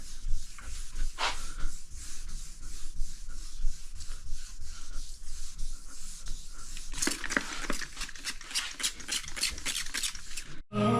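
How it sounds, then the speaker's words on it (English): Paint hand-sanded with 1200-grit paper on a hard-ish block, a close, steady rhythmic rubbing of back-and-forth strokes that turns brisker and sharper near the end before stopping abruptly. "That's 1200 grit on the yeah, the sort of hard-ish block."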